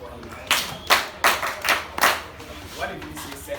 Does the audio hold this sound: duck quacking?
no